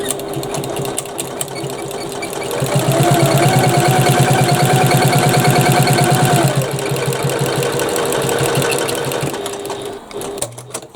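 A sewing machine runs a steady top-stitching seam across the top of a bag, whirring evenly for several seconds at close range, with softer machine running before and after.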